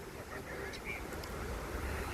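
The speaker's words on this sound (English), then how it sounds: "Man, we're just having lots of wind." Strong wind blows across a backyard where free-range bantam chickens are kept on a windy morning, a steady, dense rushing roar with low rumbling buffets that fills the whole stretch without a break.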